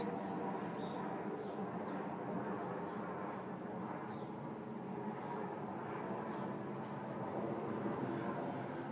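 A broad, steady roar of a passing airplane fills the whole stretch, distant and even, with a few faint bird chirps above it.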